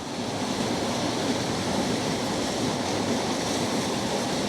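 A steady, broadband rush of falling water roars continuously without pause, like a waterfall heard from nearby.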